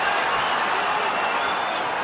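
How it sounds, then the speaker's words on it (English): A big arena crowd roars in a steady, unbroken wash during a world flyweight title boxing bout between Cristofer Rosales and Paddy Barnes. "Crowd's loving it."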